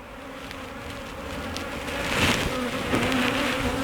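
A close, continuous buzz of many honey bees humming together at an open hive, a low steady drone with a few individual wingbeats rising and falling past.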